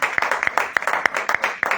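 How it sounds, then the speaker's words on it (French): A church congregation claps to praise Jesus during a bilingual Spanish and French service, quick overlapping hand claps in a loose steady rhythm, close and lively. "Aplaude fuerte a Jesús"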